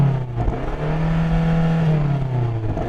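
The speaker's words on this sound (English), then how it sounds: "So I'm going to rev up this M8." A BMW M8 engine revving up, a loud, close, sustained rising roar that holds steady before easing off, no talking.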